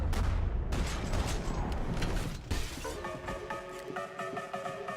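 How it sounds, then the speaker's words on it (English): A burst of rapid gunfire in Max Payne 3 fills the first half with loud, dense shots and debris, then cuts to a quieter stretch with a steady mechanical tone and scattered impacts. "Did he actually shoot at me?"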